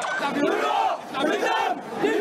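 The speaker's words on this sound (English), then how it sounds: "Angry crowds gathered outside, stepping on bloody palm fronds left in the wake of the violence, chanting, "No more terrorism."" An angry crowd gathered outside after a deadly church bombing on Palm Sunday chants loudly in unison, with voices rising and falling in a steady rhythmic pattern, close and dense.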